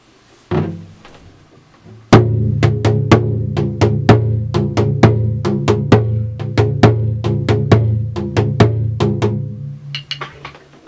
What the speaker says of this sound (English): Yama-Taiko and most taiko music typically sits on top of a bass line or Jiuchi